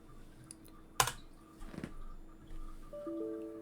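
Computer keyboard typing on a Windows 10 PC, a few quiet keystrokes with one sharper click, faint and close against a low hum.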